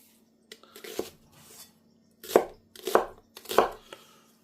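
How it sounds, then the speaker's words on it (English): Onion chopped into chunky pieces on a cutting board for a bok choy stir fry: a few light taps, then three louder clusters of quick knife strikes close by, with pauses between. "To accompany our stir fry, we're just going to have some onion. This can stay quite chunky."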